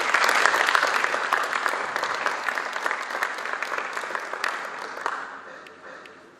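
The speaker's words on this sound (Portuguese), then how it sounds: "Uma salva de palmas." Sustained applause from an audience at a Portuguese graphic arts industry event, a dense even wash of clapping that holds steady for several seconds before tapering off toward the end.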